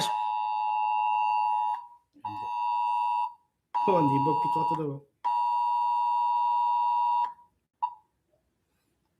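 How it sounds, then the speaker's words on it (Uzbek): Several phones ring with incoming calls: long, loud electronic tones in repeated bursts with brief gaps between them. A voice speaks briefly in the middle, and the clip ends with a short final beep and then silence. "Bu telefonlar mana shunday turli ovozlar bilan u yoqdan telefon kelgan, bu yoqdan telefon kelgan"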